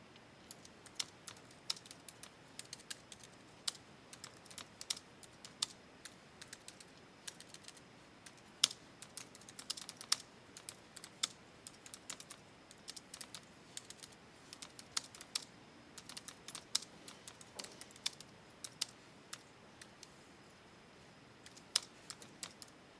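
Steady typing on a computer keyboard while editing text in an online course page, with quick, irregular key clicks running throughout and no talking.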